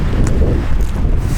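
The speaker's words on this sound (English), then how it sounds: "even though it's windy" Gusty wind buffeting the microphone outdoors on an evening hunt in Alabama, a heavy low rumble that stays strong and steady throughout.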